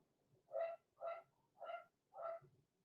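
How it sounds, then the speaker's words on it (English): A dog barks four times in an even rhythm, the barks sounding somewhat distant and muffled against near silence. "Can you hear the dog barking?"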